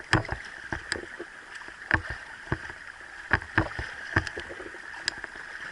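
Kayak paddled along a shallow stream: regular paddle strokes dip and splash in a steady rhythm, about two per second, close by over a soft background of flowing water, with no voices.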